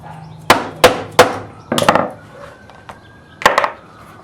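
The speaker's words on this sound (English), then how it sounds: "I'm just going to punch through with the leather punch so that we can rivet this in place" A hammer strikes a leather punch through a leather holster for a 1911 pistol, giving several sharp, close thwacks in an irregular rhythm, some single and some in quick pairs, with quiet gaps between.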